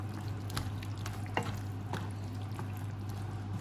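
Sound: stir-fry sauce with bamboo shoots and fish balls starting to boil

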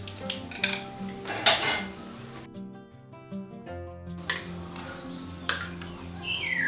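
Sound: adding mayonnaise with spoon for grilled fish

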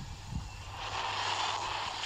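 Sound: jet aircraft flying in the video game Kaiju Universe

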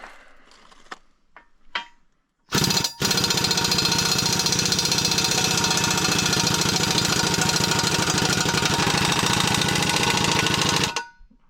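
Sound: tractor engine running

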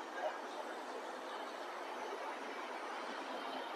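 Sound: passenger train passing

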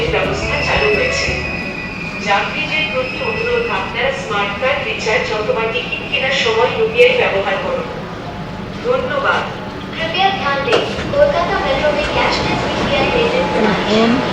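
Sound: Howrah underwater metro train at station, doors opening

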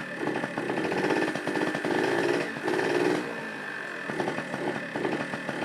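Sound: Yamaha Towny engine idling

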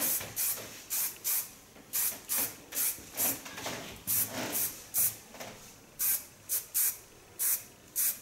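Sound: hairspray being sprayed on short pixie haircut

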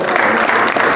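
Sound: applause at boxing weigh-in

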